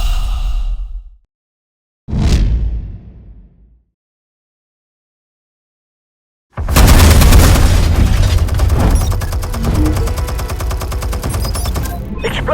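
Explosions in Batman: The Telltale Series video game: a short boom fades out, a second blast decays over a second or so, and after a silence a loud sustained roar of blast and rumbling debris continues for about six seconds.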